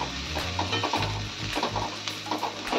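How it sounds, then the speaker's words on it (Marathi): Vegetables sautéing in hot oil with turmeric in a Marathi home kitchen, a continuous sizzle broken by repeated scraping and stirring strokes of a spatula against the pan, close up with no voices. "थोडीशी हळद टाकून घेते. त्याच्यानंतर परत मी परतून घेते."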